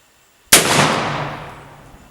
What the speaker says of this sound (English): I'm going to shoot one more into that bull.